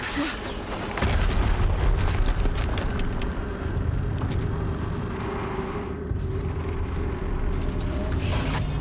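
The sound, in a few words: explosion in the video game Horizon Zero Dawn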